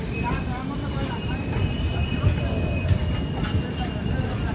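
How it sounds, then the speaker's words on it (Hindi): A very long goods train passes near Nagpur in a continuous loud rolling rumble, with rhythmic wheel clatter and faint metallic squeals carrying on through the whole stretch. "ये गूड्स ट्रेन तो क्रॉस होने वाली है, बहुत लंबा था"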